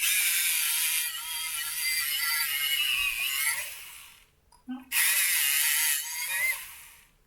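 A coloured pencil ground in a sharpener, a steady scraping whir for about four seconds, a brief pause with a small click, then another two-second grinding burst, close and fairly loud.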